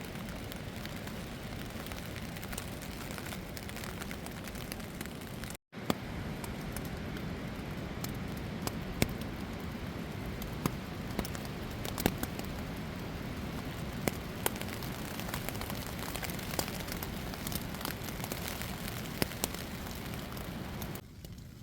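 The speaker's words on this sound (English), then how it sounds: "I'm trying to capture how loud the wind is." A loud, steady roar of storm wind buffets close by without letup on a mountain trail at Max Patch, with scattered crackles and taps mixed in.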